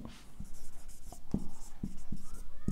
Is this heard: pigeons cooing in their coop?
no